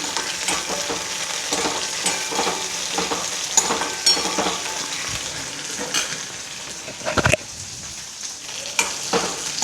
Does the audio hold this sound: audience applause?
no